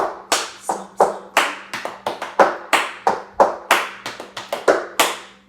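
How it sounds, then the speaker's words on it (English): Body percussion: a steady pattern of stomps and hand claps, sharp and close, repeating in an even counted rhythm with about two dozen crisp hits and no talking. "1, 2, 3, 4, stomp, clap. Stomp, stomp, clap."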